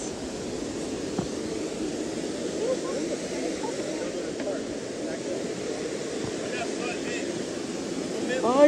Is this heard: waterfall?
yes